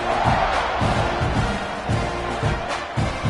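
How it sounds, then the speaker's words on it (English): Crowd buzzing in the stands at a football game after a score, a steady dense murmur of many voices with faint swells, loud and continuous throughout. "this crowd is buzzing after that last score"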